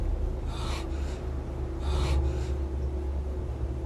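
A character panting heavily in Silent Hill HD 2: two pairs of harsh, close breaths, in and out, over a low droning ambience.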